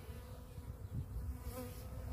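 Honeybees buzzing around a hanging piece of hive outdoors, a low steady hum of several insects close by, swelling slightly toward the middle and holding on with no talk.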